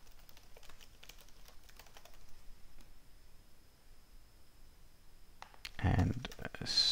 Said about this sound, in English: And type that correctly, then it works.